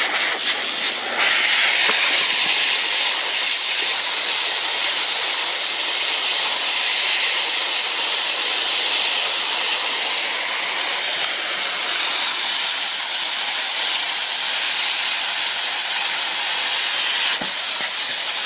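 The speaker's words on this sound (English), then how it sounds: "What I'm doing here is I'm going to run what we call a T-weld." Welder running a T-weld on a bumper gives a steady, close, loud hissing crackle that lasts throughout, with slight shifts in intensity and no talking.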